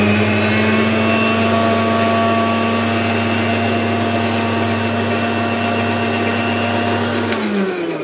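An electric mixer grinder whirs loudly and steadily as it grinds poppy seeds with added water into a paste, a constant motor hum that runs for several seconds before winding down abruptly near the end.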